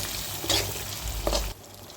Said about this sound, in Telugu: ఇలా వేగిన తర్వాత ఇందులోకి కాస్తంత కరివేపాకు వేసుకుందాము. వేసుకొని ఒకసారి ఇలా కలుపుకుందాము.